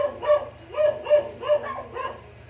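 A neighbor's dog barks repeatedly, a steady series of about five or six medium-distance woofs with a low background hum.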